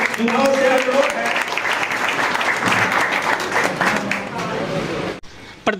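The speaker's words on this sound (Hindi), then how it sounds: "तालियों में कंजूसी ना करें," A crowd at a party office welcome event in Sitamarhi gives dense, sustained applause with voices and chatter mixed in. It cuts off abruptly near the end.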